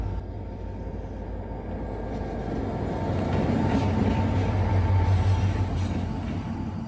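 A locomotive of the Tren a las Nubes in Salta, Argentina, shifts position to push its carriages, giving a continuous low rumble and rolling noise that swells slightly midway, close and with no voices.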